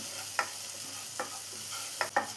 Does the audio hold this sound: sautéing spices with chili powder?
yes